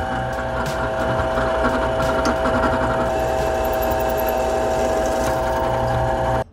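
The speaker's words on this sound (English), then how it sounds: "Yeah, I'm going to drill a hole right now." A power drill bores a hole through a Damascus steel blade, a loud steady whine with a constant hum that runs unbroken before cutting off abruptly at the end.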